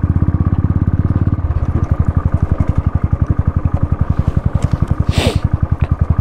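A motorbike on the steep mountain road of Sach Pass thumps past at close range, its engine pulsing in a fast, steady rhythm that stays loud throughout.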